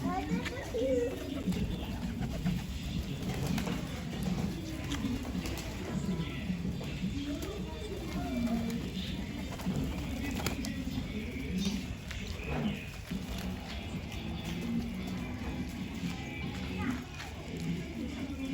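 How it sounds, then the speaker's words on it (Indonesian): Pigeons gather while being fed in an outdoor spot, soft cooing and fluttering heard steadily through the clip beneath near, continuous talk from adults and children. "kasih makan burung"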